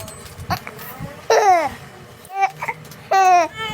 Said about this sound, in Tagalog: Sensyahan nyo na, maingay itong nasa tabi ko. Yung baby ko, umiiyak na.